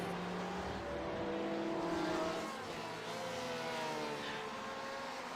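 A Ferrari race car engine roars on the Barcelona circuit during an Aussie Mixed & Fixed Series race, held at a steady high-rev drone with rising and falling pitch sweeps as it closes in, loud and continuous throughout.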